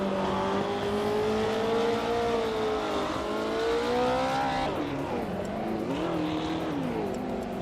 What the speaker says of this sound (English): Can-Am cars are dominating the front with high power and agility, while vintage ultralights are struggling to keep up.